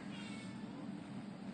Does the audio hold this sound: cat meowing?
yes